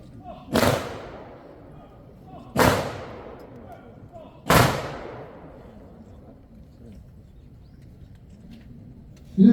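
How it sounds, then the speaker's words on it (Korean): Honor guard rifle salute volley at a memorial service for President Park Chung-hee at Seoul National Cemetery: three sharp, loud cracks evenly spaced about two seconds apart, each ringing out and decaying over quiet outdoor ambience. "의장대 조총 발사!"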